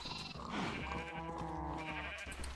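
Sheep in the Minecraft modpack GregTech New Horizons give a drawn-out wavering bleat over a steady background hum, moderately close and heard alone without speech.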